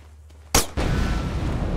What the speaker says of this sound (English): I'm going to shoot that thing.